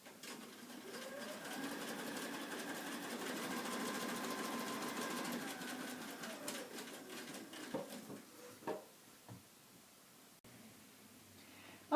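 A sewing machine stitches a quilt block in a steady, fast run that carries for several seconds, then slows and stops, followed by a few soft clicks and handling sounds.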